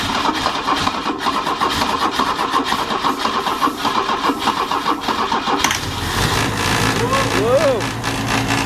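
A 32,000-mile Opel GT cranks and fires up after sitting for 24 years, its starter churning steadily before the engine catches and settles into a rough idle, close by with voices in the background.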